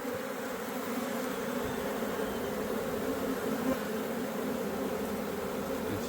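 A bee swarm moving into a new home, a dense continuous buzzing hum of many wings flapping close by, steady and unbroken with no voices.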